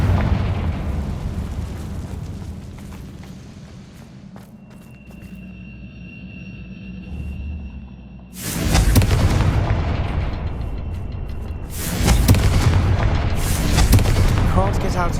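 Confringo blasting spell in the Hogwarts Legacy video game: two loud, sharp explosive bursts with crackling tails ring out against a low ambient rumble, preceded by a quieter stretch with a faint sustained magical tone.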